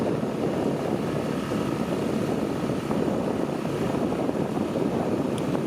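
A Tohatsu 6 horsepower outboard boat motor runs at about 30% throttle, a steady, continuous engine drone with wind and water noise, loud and close throughout with no talking.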